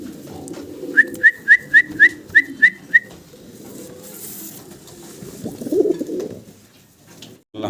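Fancy pigeons call at close range: a quick run of about eight evenly spaced, clear whistle-like notes, then a lower, softer burst of sound.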